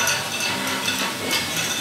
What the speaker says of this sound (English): And now we're going to simmer this.